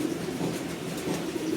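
Racing pigeons in a loft give soft, steady low cooing against a constant background murmur.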